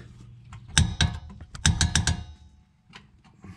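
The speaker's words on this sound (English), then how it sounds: "got my torque wrench locked in, 80 foot-pounds, so we're gonna go ahead and get the 17 mil torque to spec" A torque wrench ratchets in short clicking bursts while tightening a 17 mm brake caliper bracket bolt to 80 foot-pounds on a 2009-2014 Acura TL, the clicks grouped in quick runs with pauses, close and clear.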